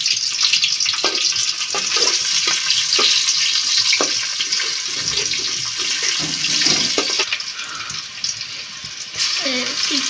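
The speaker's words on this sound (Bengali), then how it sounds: "একটু রসুন বাটা দিয়ে দিলাম, এই রসুনটাও পেঁয়াজের সাথে একটু ভাজবে" Onion paste with sliced green chilies and garlic paste fries in a pan for a cabbage curry, giving a steady sizzling hiss with occasional stirring scrapes throughout, and a voice speaks over it.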